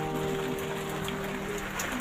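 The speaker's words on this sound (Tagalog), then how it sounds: "naku, umuulan po" Steady rain falling, a dense continuous patter and hiss with no breaks and no voices, moderately quiet.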